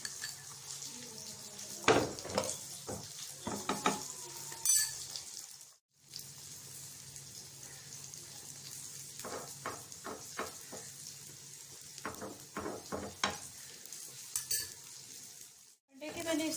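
Three eggs frying in hot oil in a pan, giving a steady close hiss with scattered clinks and scrapes of a utensil against the pan, and no talking.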